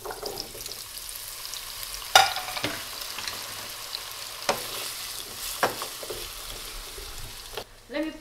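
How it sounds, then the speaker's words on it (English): Potatoes frying in a pan for Italian sausage and peppers, a close steady sizzle with scattered sharp clanks and scrapes of stirring throughout. "Now we gotta fry the potato."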